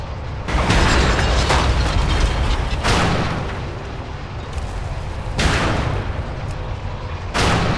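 Explosives blast attacking carts in a World of Warcraft battle, heavy booming bursts layered over a continuous loud rumble of combat, with several big hits standing out close and dense.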